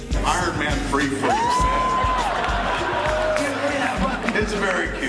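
A large convention crowd in San Diego cheers and whoops after seeing Iron Man footage. A sustained roar of loud, close excitement carries a sliding whistle, and voices talk over it.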